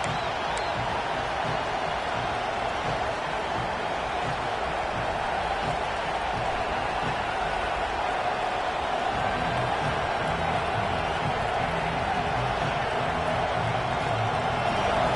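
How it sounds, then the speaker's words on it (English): A large stadium crowd at a college football game roars steadily throughout, a dense continuous wash of cheering and chatter with no pauses. "this crowd is fired up. Listen to this noise here."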